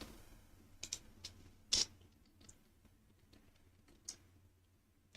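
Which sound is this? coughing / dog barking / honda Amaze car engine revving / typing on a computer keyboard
typing on a computer keyboard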